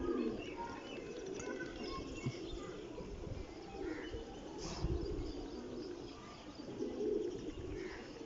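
Soft, low cooing of pigeons repeating at a moderate distance, with a few faint chirps over a quiet outdoor background.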